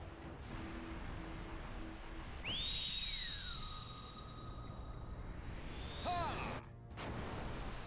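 A person whistles along while playing Final Fantasy XII The Zodiac Age, with a clear tone sliding up and holding, then gliding down and later rising again, over a soft steady background hiss.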